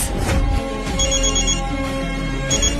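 A telephone rings loudly and steadily, its repeated electronic tones filling a short office scene with no one speaking.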